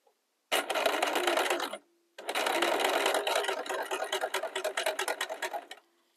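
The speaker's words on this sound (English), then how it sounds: "Sewing on a curve is not always the easiest thing, but it'll be all right." A sewing machine stitches a shirt along a curved seam with a smaller needle, whirring loudly and up close in two bursts, the first short, then a pause, then a longer run that breaks into rapid stop-start stitching near the end.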